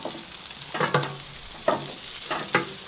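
Chicken wings, already cooked sous vide, sizzle on a grill set to high, a steady close crackle broken by several sharper bursts as pieces are moved or turned.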